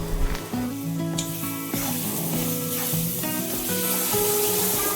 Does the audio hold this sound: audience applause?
no